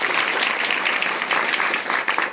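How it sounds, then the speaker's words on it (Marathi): A crowd applauding loudly at a public village event, dense sustained clapping from many hands that carries on without a break and fades slightly at the end. "टाळ्या वाजवा जोरात."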